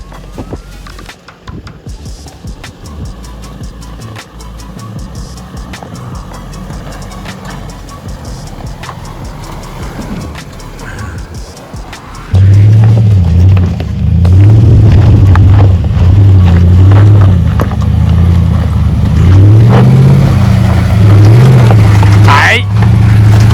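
Four-wheel drive on an outback dirt track, first rolling with rattles and bumps, then the engine surges loudly as it accelerates hard, revving with rising and falling pitch; people talk over it.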